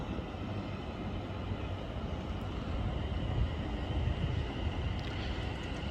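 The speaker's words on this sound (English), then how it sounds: "arriving in now behind it is going to be the 1545 London North Western Railway service to London Euston" A London Northwestern Railway Class 730 electric train pulls into Watford Junction on the West Coast Main Line, giving a low, even rumble with wind buffeting the microphone.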